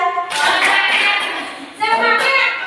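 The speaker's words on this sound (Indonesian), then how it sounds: "Beri tepuk tangan dulu biar lebih semangat." A group claps together in rhythm in two loud bursts of quick, even hand claps, with voices calling along over the clapping.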